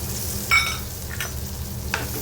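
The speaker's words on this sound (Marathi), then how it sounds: "ते वाटण पण आपण व्यवस्थित परतून घेऊया" Ground spice paste with capsicum is stirred in a hot pan, a steady soft sizzle with a few sharp scrapes of a spoon against the metal, close and without talk.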